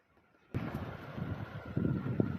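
Strong wind suddenly buffets the microphone, a loud rushing roar with gusty surges that continues without letup.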